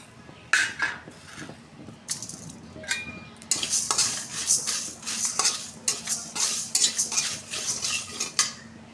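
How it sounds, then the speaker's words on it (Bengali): Panch phoron spices fry in a pan, with a quiet sizzle beneath repeated sharp metal scrapes and clinks of a spatula stirring against the pan. "এরপরে যে পাঁচফোড়নটা ভেজে নিব"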